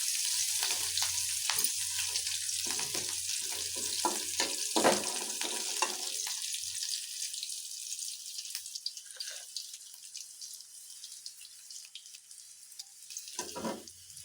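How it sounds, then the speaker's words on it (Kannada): Chopped ginger, garlic and green chilli fry in hot oil with a loud, close sizzle and spatter, a few sharp stirring scrapes early on, the hiss gradually thinning toward the end. "ಸಣ್ಣದಾಗಿ ಕಟ್ ಮಾಡ್ಕೊಂಡಿದ್ವಲ್ಲ ಶುಂಠಿ, ಬೆಳ್ಳುಳ್ಳಿ, ಹಾಗೆ ಹಸಿಮೆಣಸಿನ್ಕಾಯಿ, ಇದನ್ನು ಹಾಕ್ತಾಯಿದ್ದೀನಿ. ಇಷ್ಟು ಹಾಕಿ ಚೆನ್ನಾಗಿ ಫ್ರೈ ಮಾಡಬೇಕು."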